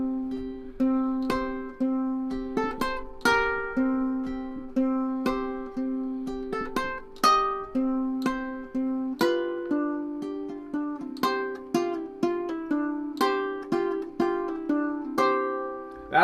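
A solo ukulele plays a full fingerpicked arrangement of Gambler's Blues, close and clear, with a steady stream of plucked notes, pinches and ringing chords and no voices.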